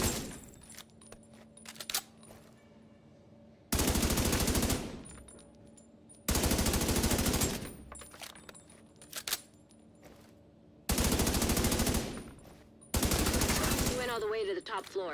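Bursts of rapid automatic gunfire from a gun in a video game, four long loud volleys separated by quieter gaps with clicks and scattered game sounds.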